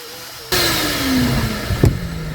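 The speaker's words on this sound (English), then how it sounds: "All right, now let's vacuum it." A vacuum cleaner starts up abruptly inside a Nissan Xterra during an interior cleaning, its motor whine settling into a steady loud drone, with a brief knock or bump partway through.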